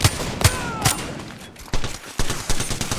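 Bursts of gunfire from the battle-royale game Free Fire, with sharp shots near the start followed by a rapid spray of automatic fire, loud and close, with no talking over it.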